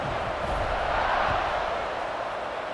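A college football video game crowd buzzing during a Kansas at Missouri rivalry game, a loud, steady roar of massed voices with a slight swell in the middle.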